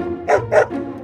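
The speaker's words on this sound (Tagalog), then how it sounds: "Tahol ni Aso," A dog gives two quick barks followed by a softer third, close by and short.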